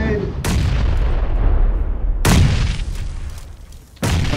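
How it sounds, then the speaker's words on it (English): Grenade blasts in the game PUBG: three loud, booming explosions land near, each at roughly 0.4, 2.2 and 4 seconds, with rumbling tails between them and no talk. "Grenade! Grenade!"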